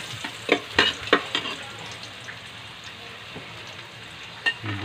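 Garlic frying and being stirred in a pan for a Filipino dalag (snakehead fish) dish: a steady close sizzle with several sharp scraping stirs near the start and another near the end.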